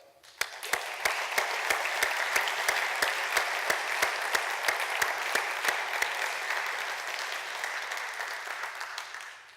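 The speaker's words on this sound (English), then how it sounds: "So I think we deserve a round of applause." Sustained applause from an audience at the San Francisco launch event of a Lehigh University fundraising campaign, a dense steady wash of many hands with a few sharp louder claps standing out, filling the room for nearly ten seconds.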